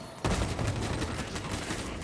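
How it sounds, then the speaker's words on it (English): A grenade launcher fires in Space Marine 2, one sharp loud blast followed by a rumbling tail and continuing battle noise. "now I used that grenade launcher there because I was thinking that it would stagger him"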